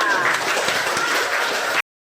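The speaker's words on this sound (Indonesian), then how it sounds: "tepuk tangan untuk kelompok 3" Applause from a classroom of students rings out for a presenting group, a steady burst of clapping that fills the room and then cuts off abruptly.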